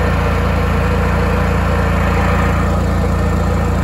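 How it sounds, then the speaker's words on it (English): A Honda EU7000is inverter generator fitted with a tri-fuel carburetor kit and running on natural gas hums loudly and close with a steady, even engine drone, with no voices. "it actually improves slightly just because the engine revs up and it stops doing that surging thing"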